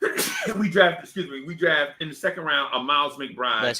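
A single sharp sneeze bursts out right at the start, then someone talks steadily over the rest.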